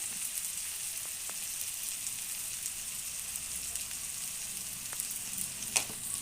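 Spices, including turmeric, chili powder and black pepper powder, fry in oil with a close, even sizzle and hiss throughout, broken by a few light clicks and one sharper pop near the end.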